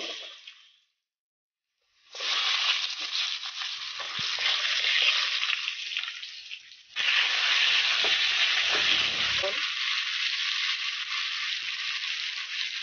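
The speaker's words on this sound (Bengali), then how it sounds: "মাছ ভাজার তেল আছে এখানে, এখানে আলুটি ভাজা নেব।" Potatoes frying in leftover fish-frying oil make a strong, continuous sizzling hiss, cutting out briefly early on, then returning with occasional scraping stirs.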